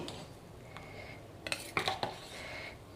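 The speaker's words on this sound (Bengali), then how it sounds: "এবার আমি একটু নাড়িয়ে দিচ্ছি" A spoon scraping and knocking inside a pot while rice flour mixture is stirred for chushi puli pitha, a few quiet clinks and scrapes clustered midway over a soft background.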